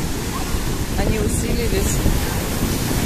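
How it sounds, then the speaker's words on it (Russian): Sea waves wash steadily onto a beach at Nikolaevka in Crimea, a broad continuous surf roar mixed with wind across the microphone, with a voice speaking briefly over it. "Волны усилились, мы где-то часа полтора, наверное, плавали."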